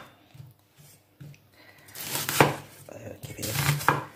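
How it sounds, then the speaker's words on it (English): Knife chopping an onion into large chunks on a board, with a few sparse taps early on, then two firm clusters of close, crisp chops, no talking. "I'm going to cut this onion into large chunks."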